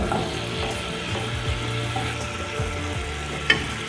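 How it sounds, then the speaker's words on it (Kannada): Mint tambuli mixture with a sour ingredient added heats in a pan on the stove, giving a steady close sizzle with scraping stir clicks and one sharp tap near the end. "ಇದರಲ್ಲಿ ಸ್ವಲ್ಪ ಹುಳಿ ಹಾಕಿ ಸ್ವಲ್ಪ ಬಿಸಿ ಮಾಡೋಣ"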